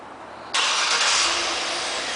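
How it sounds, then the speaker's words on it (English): A 2013 Cadillac Escalade engine fires up by remote start after a brief quiet moment, then settles into a steady, moderately loud idle. "this is going to be the remote start"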